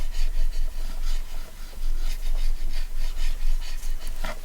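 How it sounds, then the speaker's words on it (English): Paper collage pieces being burnished flat by hand, a steady close rubbing and rasping that repeats in short strokes throughout, fairly loud and with no talking. "Let's just burnish that down."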